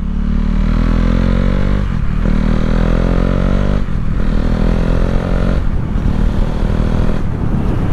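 Motorcycle engine on a highway pulling hard and loud throughout, with its pitch climbing through gears and several brief dips as clutchless upshifts are made by blipping the throttle.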